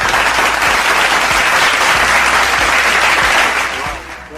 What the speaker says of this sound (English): we'll give them a rousing applause to welcome them